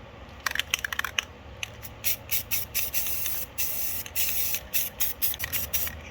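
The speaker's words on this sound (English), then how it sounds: "Now I'm gonna spray black around the outside" Repeated short hissing bursts of a spray paint can spraying black paint onto a rock, close and loud, in an uneven rhythm of quick spurts with brief pauses.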